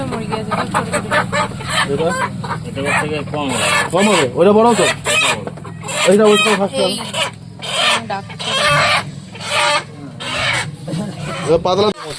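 Native chickens cluck and squawk repeatedly up close at a local market, a busy, overlapping flock sound, with a person speaking intermittently among them.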